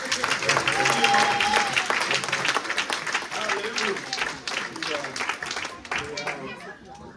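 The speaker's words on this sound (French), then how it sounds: "On va applaudir maman." Church congregation at a Mother's Day celebration claps for a mother, steady applause with scattered voices and a shouted exclamation over it, tapering toward the end.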